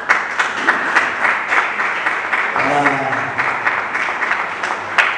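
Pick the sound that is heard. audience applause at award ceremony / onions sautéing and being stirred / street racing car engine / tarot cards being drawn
audience applause at award ceremony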